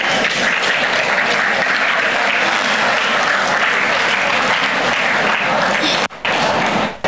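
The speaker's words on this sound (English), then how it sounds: "Clap for them" Audience applause at a student induction program, a dense, steady wash of clapping from a sizable crowd that runs nearly seven seconds, dips briefly near the end, then resumes.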